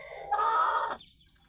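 A single chicken on a poultry farm gives one short, close, nasal cluck-squawk lasting about half a second, followed by quiet.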